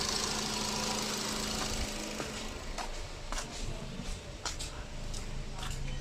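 A Nissan Sunny engine with a knocking fault runs close by during an intake system flush, a steady mechanical hum with periodic short revs and clatter, faint talk underneath.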